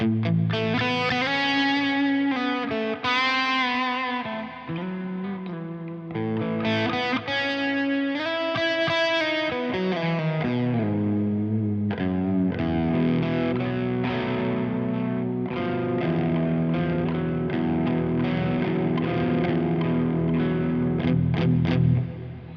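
Electric guitar through a Boss crunch distortion pedal, crunchy overdriven chords ringing with a swirling effect, played continuously and fairly loud with no talking.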